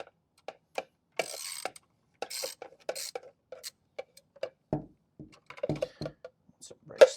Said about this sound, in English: we're going to go ahead and remove this bolt that is securing it to the firearm